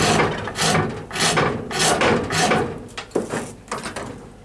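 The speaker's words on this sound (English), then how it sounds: "the best tool to start working with is a big half-round rasp" A big half-round rasp files a hickory bow with ebony overlays in a series of loud, rhythmic rasping strokes, each a harsh scraping burst close at hand, quickening toward the end.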